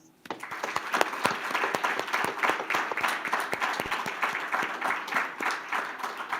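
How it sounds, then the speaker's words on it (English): Audience applause for Phi Theta Kappa Honor Society students at an induction ceremony, a steady, dense round of many hands clapping that starts abruptly and carries on evenly throughout. "join me once again in another round of applause for these amazing Phi Theta Kappa Honor Society students"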